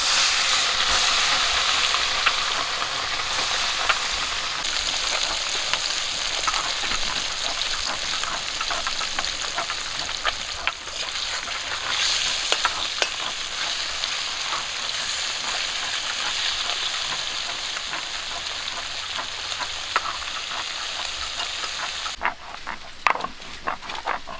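Tangra fish frying in hot oil, a dense, steady sizzle and crackle that runs loud and unbroken for the whole stretch, with small spits and pops scattered through it and no voices.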